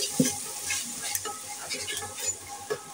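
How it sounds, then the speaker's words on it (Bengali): Onion and spice paste with ginger-garlic paste and cumin sizzling in a pan, a soft continuous fry broken by a few scraping stirs and light clinks of a utensil. "পেস্টটা আমার ভাজা ভাজা হয়ে গেছে।"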